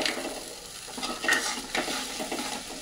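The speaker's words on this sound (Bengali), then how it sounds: "ভালো করে মশলাগুলোকে নাড়াচাড়া করে একটু কষিয়ে নেব" Spices being stirred and sautéed in a hot pan: a soft continuous sizzle with repeated scraping strokes of a spoon against the pan, close and moderately quiet, with no talk.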